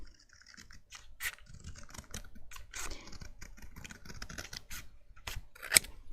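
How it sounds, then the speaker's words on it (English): Long-bladed scissors snip paper in a run of sharp, close cuts with short pauses between them, crisp and fairly quiet, with one louder snap near the end and no voices. "I'm going to use my long bladed scissors, because I'm doing long straight lines"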